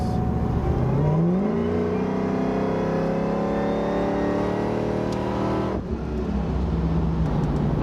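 A car running on E85 accelerates hard along a road in Mexico, its engine note climbing loudly through the revs, then dropping sharply at a gear change before pulling again close to the microphone.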